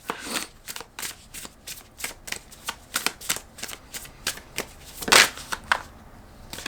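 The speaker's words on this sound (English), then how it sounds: "So we're going to pull cards." Tarot cards are shuffled by hand in a quick series of crisp riffling bursts, close and fairly loud, with one louder riffle near the end.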